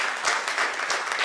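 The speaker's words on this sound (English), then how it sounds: "Please give a huge round of applause for Mr." Delegates at an automotive assembly and joining technology conference applaud a sponsor presenter, a short burst of close, even clapping from a seated crowd.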